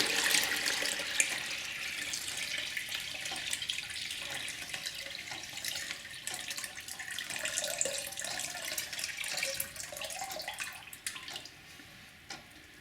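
Water from a dissected expansion tank pours into a bucket, a close splashing gush that is loudest at the start and then turns into a gurgling, bubbling trickle as the flow eases, with no talking.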